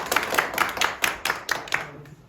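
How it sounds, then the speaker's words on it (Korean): Audience at a school book-club debate event claps in a loose, thin burst of distinct hand strikes, about a dozen rhythmic claps fading out near the end. "수고한 규제에 박수 한번 하겠습니다."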